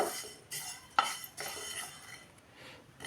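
Sesame seeds roasting in a pan are stirred in quick strokes, giving a series of close scraping and rattling sweeps of utensil against metal with a faint sizzle underneath and no talking.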